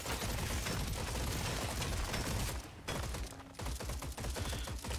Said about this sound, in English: The burst fire gun. I haven't played this one yet. Shoots rapidly in four directions.